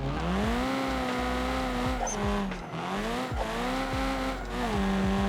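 An Ibishu Yoru drift car in a racing video game slides through corners, its revving engine swelling and dipping while the tires squeal in repeated bursts, loud and up close.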